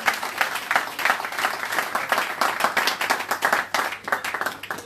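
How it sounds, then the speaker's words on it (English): A smaller crowd applauds a speaker at a town hall meeting and fundraiser in London. Distinct individual claps stay audible within a steady, moderately loud round lasting about five seconds, with no talking. "Please give him a round of applause"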